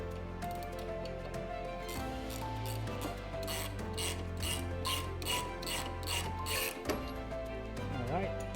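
A ratchet clicks in quick bursts while loosening the bolts on a Harley shock absorber. Metallic turning and rubbing sounds are close and moderately loud, with a voice talking faintly in the background.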